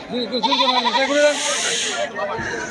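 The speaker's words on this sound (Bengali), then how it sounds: "দুটাই পাটি ছাগল" Pati goats at a rural livestock market on a rainy day let out loud, wavering, nasal bleats up close, with a long drawn-out cry and a breathy hiss. People talk alongside.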